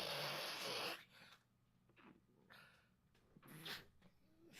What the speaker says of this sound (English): I never know when a sneeze is going to happen.